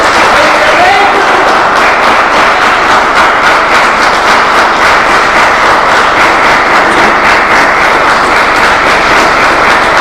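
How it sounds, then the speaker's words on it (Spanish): Church congregation applause during a Spanish-language sermon, with loud, dense, continuous clapping filling the room at a steady level. "Así que den un fuerte aplauso al querido Cristo."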